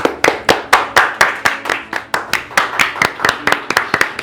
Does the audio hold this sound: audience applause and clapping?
yes